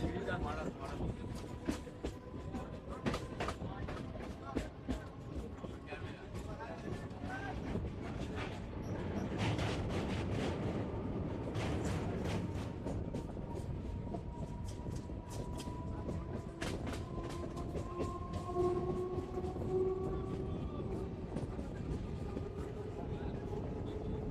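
A local train on the Sonarpur to Lakshmikantapur line rumbles steadily from inside the carriage, with rattling wheel clicks and a faint drawn-out horn tone, while passengers' voices murmur throughout.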